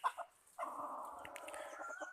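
A hen clucks close by, with a couple of short clucks followed by a longer drawn-out call, fairly faint and alone without talk.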